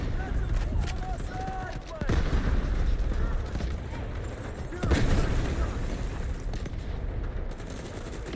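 Airstrike explosions and gunfire in the video game Delta Force, a dense continuous roar of booms and rapid shots with heavier blasts around two and five seconds, loud and close throughout.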